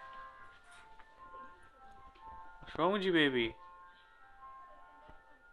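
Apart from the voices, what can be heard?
ice cream truck jingle playing outside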